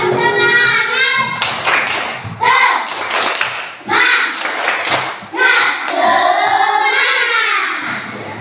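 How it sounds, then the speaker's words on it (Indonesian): An Indonesian classroom of children does a rhythmic spirit clap, a few loud bursts of patterned clapping alternating with a teacher's voice and the children's chanting. "Coba tepuk semangat dulu."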